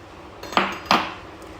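Two quick metallic scrapes and taps of a spoon against a bowl come as flour is added to ghevar batter and mixed, close and fairly clear against a quiet background with no talking.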